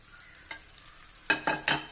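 Vermicelli frying in a pan, a quiet steady sizzle broken by one light scrape and then three quick, louder stirring strokes of a spatula near the end, close up with no talk.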